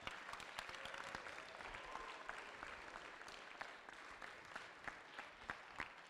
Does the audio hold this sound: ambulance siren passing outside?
no